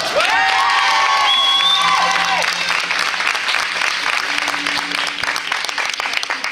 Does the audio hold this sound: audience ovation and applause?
yes